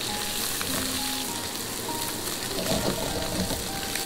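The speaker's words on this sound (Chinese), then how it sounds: "全部下锅，轻轻的晃动，让煎得均匀一些" Marinated ribbonfish pieces fry in a pan as it is gently shaken, giving a loud, steady close sizzle with some bubbling and faint pan movement, and no voices.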